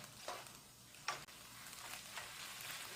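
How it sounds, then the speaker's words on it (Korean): Radish greens being stir-fried in a pan, a quiet continuous sizzle broken by a few brief scraping stirs and a sharp click, with no voices. "이렇게 해서 볶아주세요."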